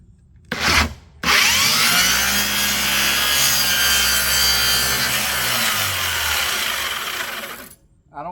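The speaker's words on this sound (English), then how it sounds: "I don't think they like the sound of the skill saw" A Skil circular saw rips through a wooden board for a multi-second cut after a brief spin-up, loud and close, with a harsh continuous whine that drops away as the blade finishes.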